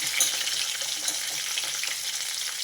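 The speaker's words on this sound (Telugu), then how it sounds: "ఆయిల్లో కొంచెం వేయించుకోవాలి" Bitter gourd pieces frying in hot oil, giving a steady, close crackling sizzle with busy popping throughout and no talking.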